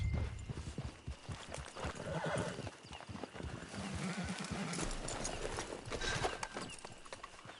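Horse hooves clip-clop steadily beneath a whinny in the Red Dead Redemption 2 video game, set against a dense, continuous background of ambient game sound at moderate level.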